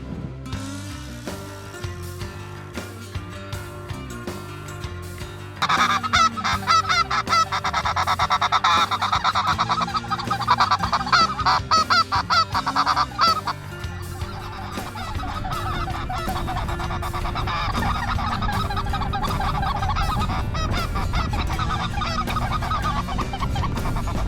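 A loud flock of geese honking continuously and overlapping, growing busier partway through, with no speech over the calls.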